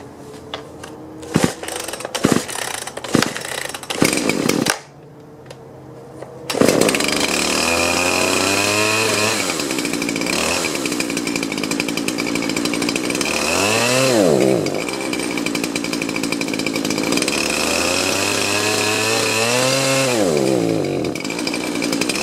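A chainsaw that idles fine but bogs down at high throttle revs loudly and alone: sharp pull-start bursts and a pause, then a sustained engine drone that repeatedly rises and sags in pitch as it struggles under throttle.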